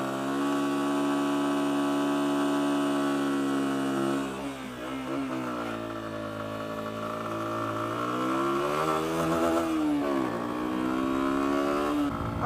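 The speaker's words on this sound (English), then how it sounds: "Wet burnouts?" A small motorcycle doing a wet burnout, its engine holding a loud, steady drone that dips and swells with throttle changes partway through, close and alone with no talking.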